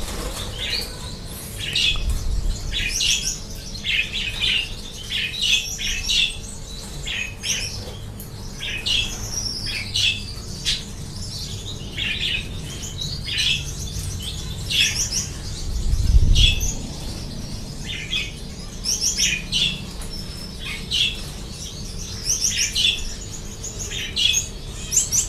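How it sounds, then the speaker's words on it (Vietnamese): Budgerigars kept in a group chirp and squawk continuously, a busy chatter of short bright calls with occasional wing flutters, fairly near and steady throughout. "Đối với con yến phụng này thì mình nghĩ là anh em nào bắt đầu mới nuôi chim cảnh"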